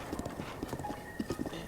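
Horse hooves clip-clop at a quick, even trot in Breath of the Wild, near the Hyrule Castle region, close and clear over a soft ambient bed.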